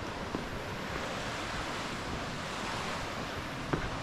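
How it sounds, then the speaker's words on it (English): A river flowing near a mountain lake on a hiking trail: continuous broadband rushing water, steady and fairly close, with a faint wind-like hiss and no voices. "Once you hear the river, after climbing a bit, you're at the lake"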